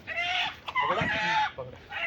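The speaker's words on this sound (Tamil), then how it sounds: "இப்போ பாருங்கள், கோழி ஓடுதா." Chickens cluck and squawk close by in short bursts, with a few louder excited calls.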